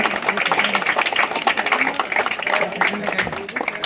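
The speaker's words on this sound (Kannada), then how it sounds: "ಅವರಿಗೆ ಒಂದು ದೊಡ್ಡ ಚಪ್ಪಾಳೆ ಬರಲಿ ಎಲ್ಲರ ಎಲ್ಲರ ಕಡೆಯಿಂದ" A crowd at a rangoli competition for young women in Sindagi applauds a second-place winner, dense clapping rising and falling under a man's loud speech.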